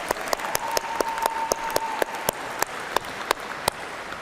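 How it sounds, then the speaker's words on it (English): Graduation commencement audience applauding the graduates: a steady wash of many hands clapping, with sharp individual claps popping out at regular intervals, moderately loud and continuous with no talk. "Let's give them another round of applause."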